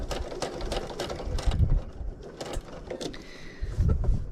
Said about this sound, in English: Okay, so now I'm going to do that second stitch around here